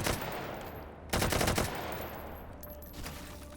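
Rapid automatic gunfire rattles through a video game shootout, a dense continuous burst that swells loudest midway and then keeps up under steady battle noise.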